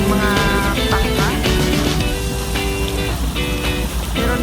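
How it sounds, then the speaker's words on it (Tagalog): Small waves on Buhi lake lap and splash continuously around a moving boat, heard close and loud with steady broadband wash and engine-like hum underneath. "Medyo may alon-alon na ng konti."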